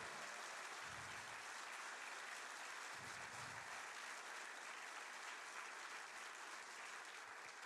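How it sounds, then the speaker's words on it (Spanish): A church congregation claps during a Spanish-language worship service, a faint, distant and continuous wash of applause that holds steady throughout. "Denle un aplauso más fuerte al Señor."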